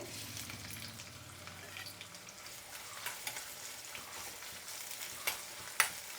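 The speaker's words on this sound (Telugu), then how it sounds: "ఎర్రగడ్డలు బాగా వేగాలండి" Onions frying in oil in a pan for a mushroom fry, a quiet steady sizzle with light stirring scrapes and a few sharp crackles and pops near the end, no voices.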